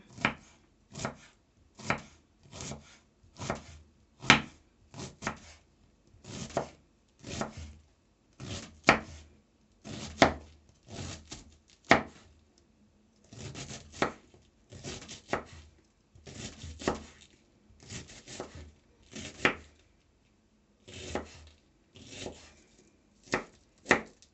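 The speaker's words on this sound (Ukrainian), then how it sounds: "І будемо нарізати капустку." A knife chopping cabbage on a board, steady rhythmic thuds repeating roughly once per second in short bursts, close and crisp with brief pauses between runs.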